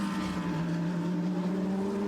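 A GT3 race car engine heard from the onboard camera hums as a steady, droning tone that eases slightly as the driver lifts off the throttle, with no voices.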